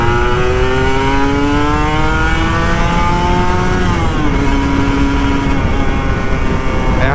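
A Kawasaki Ninja RR motorcycle engine whines close and loud in Jakarta traffic, revving steadily higher through one gear, then dropping after a shift and climbing again, with constant wind noise over it.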